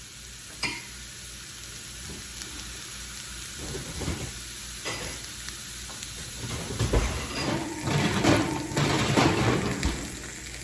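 Fries crackle and sizzle steadily in hot oil for pork burger sides, building louder toward the end with stirring bursts and hissing steam, close up with no talk.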